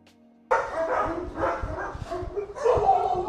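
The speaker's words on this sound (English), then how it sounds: "So Chloe is a very stable, confident dog" A confident, stable dog vocalizing during a reactivity training session, with repeated barks and yips close by, starting abruptly and continuing in bursts across the clip.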